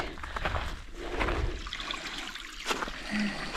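A shallow creek running along a mountain hiking trail, a steady close trickle and splash of flowing water that carries on without a break.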